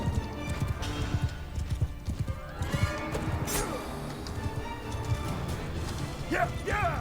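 Horses galloping in the medieval battle video game Mount & Blade, rapid clip-clop hoofbeats throughout with a whinny, thudding impacts and clashing combat noises layered over the galloping.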